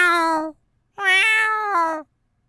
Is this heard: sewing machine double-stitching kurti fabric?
no